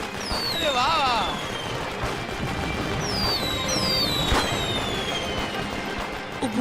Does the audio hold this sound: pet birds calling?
no